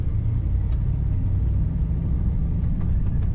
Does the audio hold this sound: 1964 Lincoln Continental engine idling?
yes